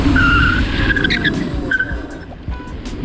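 An electric scooter brakes hard with a skid, giving a loud, close tire squeal in short chirping bursts over a rushing roar of motion.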